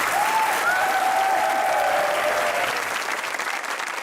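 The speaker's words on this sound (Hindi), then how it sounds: "तालियां बजती रहनी चाहिए।" Sustained studio audience applause on a comedy talk show, a loud even wall of clapping from many hands that carries on without a break and eases slightly toward the end.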